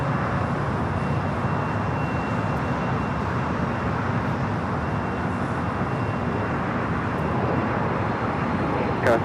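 An airplane landing on runway 25 left at LAX sends a broad, steady roar of engine and rushing air, loud and continuous, mixed with faint background traffic noise.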